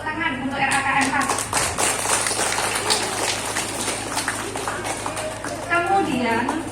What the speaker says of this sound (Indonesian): Tepuk tangan untuk RAKM 4.